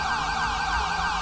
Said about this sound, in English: I was gonna go back turn off that siren because it was fucking annoying as hell